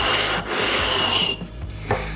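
A whetstone being flattened by rubbing back and forth, a loud close gritty rasp that slows and fades into a few lighter scrapes near the end, with no talk.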